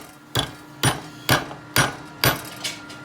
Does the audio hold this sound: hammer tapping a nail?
yes